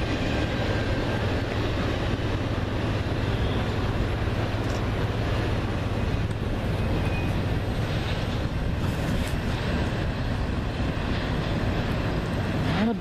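CN freight train Q198 rolls past at Ladysmith, a steady, loud rumble and rail noise of the wagons going by without pause.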